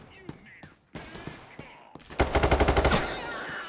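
Rapid automatic gunfire in the heist shooter Payday 3 bursts close and loud, a string of about ten evenly spaced shots after scattered single shots and clicks, with voices talking around it.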